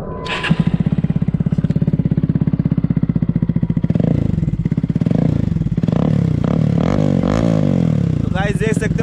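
A Bajaj Pulsar NS 160 motorcycle fitted with an Akrapovic full-system exhaust idles loud and close with a fast, throbbing beat, then revs up and down several times, with voices heard briefly under the engine.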